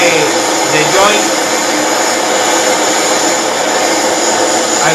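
Gas torch roaring steadily while silver soldering the pipe joint of a homemade slip harpoon tip, a loud continuous hissing rush close to the microphone with little change.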